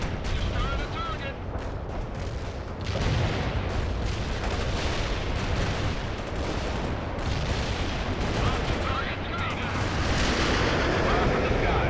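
Heavy artillery barrage in World in Conflict: a dense, continuous roar of shelling and explosions with rumbling low end, loud throughout, with radio-style voices talking over it.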